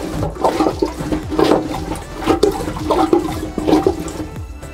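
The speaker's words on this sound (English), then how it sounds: "push the lever on the right side and pump the water out of the toilet" A hand pump on a marine toilet aboard a Bavaria C50 sailboat works in repeated strokes, each push bringing a gurgling, sloshing rush of water, loud and close.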